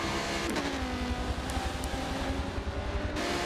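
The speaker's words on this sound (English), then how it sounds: "just synchronized burnouts for those Sammy Marasco and Iacovazzi." Race cars in an online touring championship racing game (Rolex 24 event) doing synchronized burnouts at the finish, a loud continuous engine roar with tire squeal and wavering tones, sustained throughout without talk.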